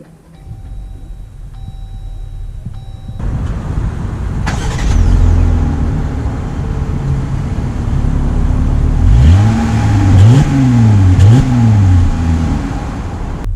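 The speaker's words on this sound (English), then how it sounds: "let's take the 2020 Gladiator Overland out to see how it drives" A 2020 Jeep Gladiator Overland cranks over and its engine catches, settling into a rumbling idle before revving up and pulling away, with rising and falling engine surges and a faint chime tone at the start.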